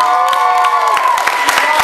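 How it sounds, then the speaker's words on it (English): An audience at a voice acting and industry panel at an anime convention bursts into applause and cheering, with whoops and scattered claps over a sustained crowd roar. "Give yourselves a wonderful round of applause."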